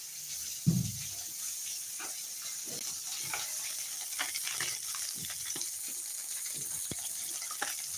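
Fish fries in a pan, with a soft steady sizzle, occasional stirring clinks and a brief thud at the start, fairly quiet with no talk.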